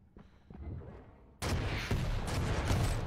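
Video game gunshots in Estoty Duel ring out, a pair of fainter reports early on followed by a louder, booming burst of shots.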